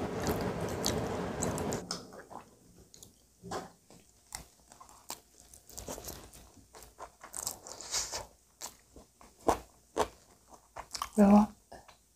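Close, quiet chewing and biting of spicy Korean chicken feet in a mukbang, with scattered wet, sticky bites and soft crunches, plus brief speech at the start.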